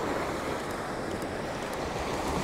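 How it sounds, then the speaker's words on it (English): Small waves wash steadily up a sloping beach at dawn, a constant close surf roar with light wind noise and no talk. "The waves are quite small, but they're just washing up this sloping bit of beach quite nicely."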